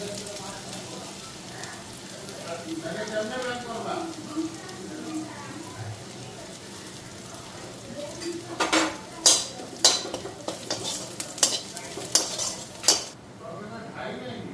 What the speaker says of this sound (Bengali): তেল গরম হয়ে গেছে তো এদিকে আদা সম্বাদ দিয়ে দিলাম